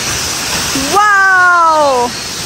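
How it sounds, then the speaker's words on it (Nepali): Broad, steady rush of Amile waterfall in Arghakhanchi, Nepal, fills the scene, loud and close, while a voice speaks briefly over it. "झरना यहाँ चाहिँ सानो झरना रहेछ है"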